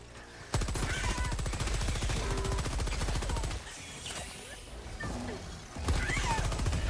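Rapid rifle gunfire in the video game Helldivers 2, fired in sustained automatic bursts with brief pauses, with chaotic battle noise and speech mixed in.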